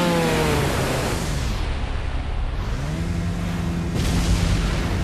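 A vehicle engine accelerating in Resident Evil 4 VR, its droning pitch dipping and then climbing again over a loud rushing roar, close and continuous.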